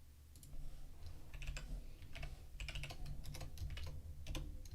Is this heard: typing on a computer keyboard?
yes